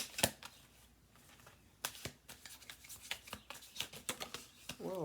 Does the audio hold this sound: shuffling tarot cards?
yes